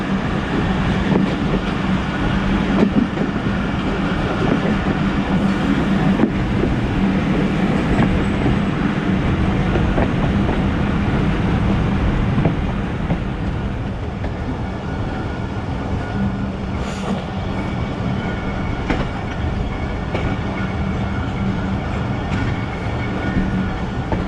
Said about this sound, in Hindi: 130 डाउन थाला एक्सप्रेस इस वक्त अप्रोच बना रही है टैक्सला के लिए